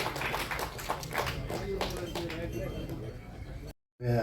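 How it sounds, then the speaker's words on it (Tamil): Audience clapping at a Tamil film audio and trailer launch, scattered and close, fading out after a few seconds before a brief silence. "ஒரு சத்தமான கைத்தட்டல் கொடுத்து வெல்கம் பண்ணிக்கலாமா"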